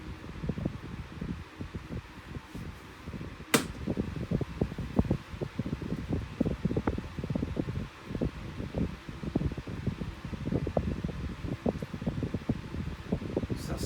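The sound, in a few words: desk fan running at medium speed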